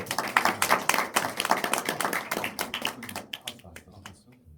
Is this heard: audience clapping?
yes